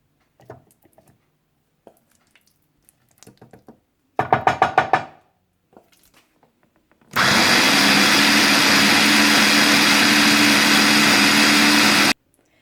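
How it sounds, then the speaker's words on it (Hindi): An electric kitchen blender blending dates runs loudly and steadily for about five seconds near the end, after a short earlier burst and a few faint knocks. "और मैं भी इसे ब्लेंडर में डालकर थोड़ा सा ब्लेंड कर लूंगी।"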